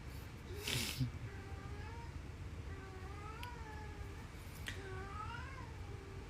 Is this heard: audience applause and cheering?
no